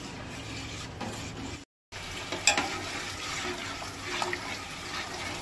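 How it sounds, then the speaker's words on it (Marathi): A spoon stirs a sweetened mixture with sugar and a turmeric leaf in a pan for Goan Diwali rosatle fov. It gives soft, quiet scraping and gentle bubbling, with a brief drop to silence partway through and occasional small clinks. "अशें ते दवळीत रावंक जाय."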